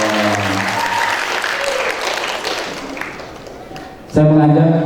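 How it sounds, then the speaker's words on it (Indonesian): Loud audience applause fills a graduation and farewell ceremony for Quran memorisers at a Muhammadiyah school, dense clapping running for about four seconds with voices mixed in, before a speaker's amplified voice takes over. "Tepuk tangan buat kita semuanya."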